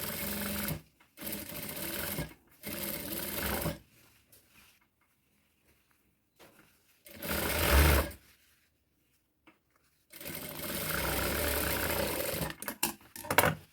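Sewing machine stitching around a blouse armhole, running in several short bursts of steady whirring separated by pauses, with a longer final run near the end.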